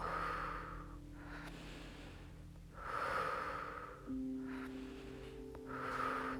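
Slow, deep breaths during an evening yoga session, each long inhale and exhale rising and falling steadily over a low steady hum, with no talking.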